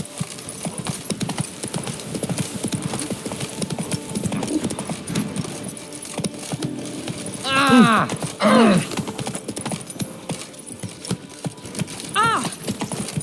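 Hoofbeats of Roach, a horse in The Witcher 3: Wild Hunt, clip-clop steadily through the scene, with a louder burst and a whinny-like call partway through, set under ambient game sound and some talk.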